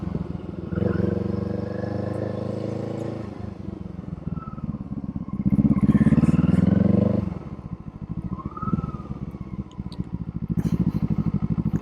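Kawasaki Eliminator motorcycle on new tires ridden slowly in a parking lot, a close, loud engine rumble rising and falling with gentle throttle blips, one stronger surge midway, then settling back to an idle-like thump.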